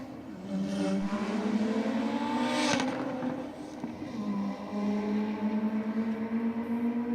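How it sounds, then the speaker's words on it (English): A Mazda RX-7 drag car holds a strong burnout at the strip, its engine droning loud and steady with rising and falling pitch, tyre roar underneath and a brief crackle midway. "another nice strong burnout from the RX-7"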